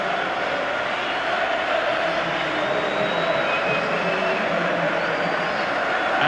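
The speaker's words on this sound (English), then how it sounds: "they're getting an excellent response from the crowd here" Football crowd at a 1992 Zenith Data Systems Cup match between Nottingham Forest and Southampton, a steady, dense roar of applause and cheering held at even level throughout as Southampton's players climb the steps.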